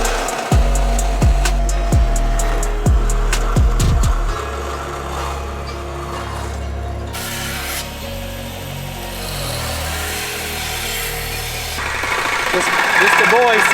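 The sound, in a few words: bandsaw cutting a part for a radiator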